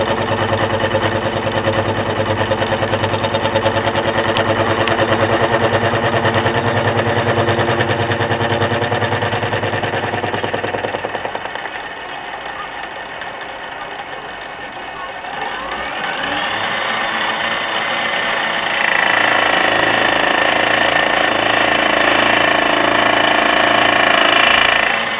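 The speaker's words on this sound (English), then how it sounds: "And this cut should complete the actual gear wheels for the lathe." A metalworking lathe cutting the gear wheels for a Raglan 5-inch lathe tumbler gear, a loud continuous machine drone that drops and changes pitch partway through, then rises again, with no talking.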